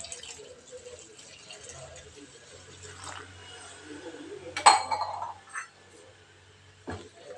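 About 280 ml of water poured into a pan while cooking, a short liquid splash and trickle mixed with a clink, heard alongside a person talking.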